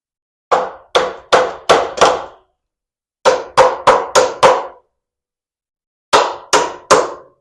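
A hammer taps a metal part of a shortened VW pan buggy in three bursts of sharp, ringing clangs, five strikes, then five, then three, each hit loud and close with a short metallic decay.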